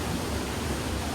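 Waterfall at Sahastradhara near Dehradun, a dense, steady rush of falling water filling the whole brief moment, close and loud with no voices.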